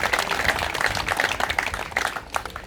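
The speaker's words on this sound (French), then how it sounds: "qui méritent les plus sincères applaudissements" An outdoor crowd at a national youth pétanque tournament at a boulodrome claps in a steady patter of many hands, moderately loud and fairly close, with no one talking over it.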